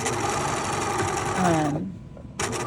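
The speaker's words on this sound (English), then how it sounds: "I'm gonna sew all the way around the perimeter." A sewing machine stitches around a shirt collar with a steady, close mechanical whir that stops briefly near the end and then starts again.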